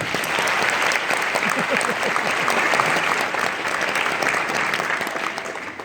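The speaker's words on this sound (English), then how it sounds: "One more round of applause." Sustained applause from a large audience at a graduation ceremony, dense and even for several seconds, with some voices in the background, slowly tapering at the end.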